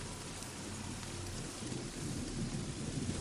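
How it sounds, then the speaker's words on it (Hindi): Heavy rain falls as a steady dense hiss, with a deep, low thunder rumble building underneath as the storm grows stronger. No voices are heard. "बारिश अब और तेज हो चुकी थी।"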